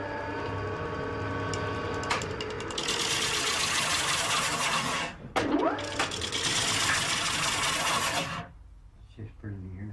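A lathe turns while the rim of an Irish spinning wheel is parted from its centre section, making a loud continuous rasping whir. The whir briefly dips midway, then winds down at the end.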